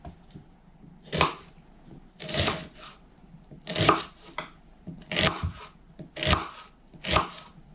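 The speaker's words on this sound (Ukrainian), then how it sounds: "Далі беру одну цибулину та нарізаю її дрібним кубиком." A knife dices an onion on a cutting board in six quick bursts of crisp, rapid strokes, each separated by a brief pause, close and fairly loud.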